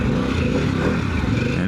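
Harley-Davidson CVO Pan America adventure motorcycle engine running loud and steady under load through a quick-shift from first to second gear, a continuous close rumble without pause.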